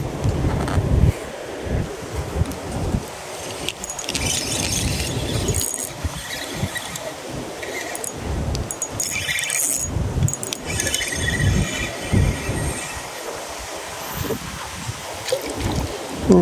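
Steady wind roars and buffets the microphone over strong, rushing, churning current while fishing, a continuous loud wash with gusty swells and no clear pauses.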